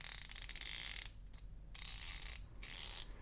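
A GearWrench ratchet turns in quick bursts, its rapid fine clicking running smoothly in three close, loud spells separated by brief pauses.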